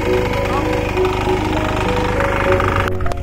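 A farm tractor's engine runs loud and close with a steady droning, knocking rumble, and voices talk over it before the sound cuts off sharply near the end.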